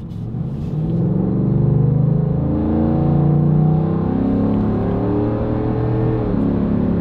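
A new Shelby truck drives along with a loud, steady engine rumble heard from inside, swelling as it accelerates and holding a deep drone throughout, with no talking.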